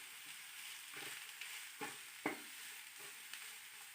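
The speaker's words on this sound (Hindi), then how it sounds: "अब मैं इसके अंदर बंद गोभी भी डाल देती हूँ। इसको भी फ्राई कर लें अच्छी तरह से" Cabbage frying in a pan while being stirred, a steady soft sizzle interrupted by a few brief scraping and clinking stir strokes, close and moderately quiet with no talking.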